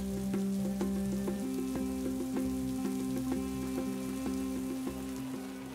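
Rain falls on fabric tents during a desert crossing, a dense, steady patter of drops tapping the cloth with a faint regular knocking underneath, close and continuous with no voices.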